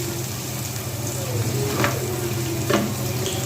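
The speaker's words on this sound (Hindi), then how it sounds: "इसी में हम शामिल कर देंगे लहसुन जो हमने चॉप किया हुआ था। तो हल्का सा सौते करेंगे" Chopped garlic sautéing in a pan for restaurant-style chicken Manchurian, a dense continuous sizzle with a couple of light stirring scrapes, close up.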